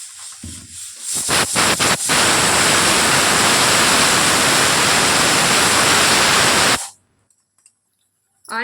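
Onions frying in hot oil in a kadai give a loud, steady hissing sizzle that starts after a few sharp knocks and cuts off abruptly near the end, heard close up with no voices.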